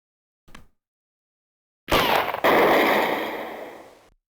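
Gunfire from the video game Snatcher opens with a brief faint blip, then a loud blast and a rapid sustained burst of shots that fades out over a couple of seconds, with no speech.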